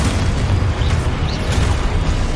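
A loud, booming blast from the Expulso spell in Hogwarts Legacy, a dense rumbling explosion with bursting pops that fills the whole stretch without pause and has no voices over it.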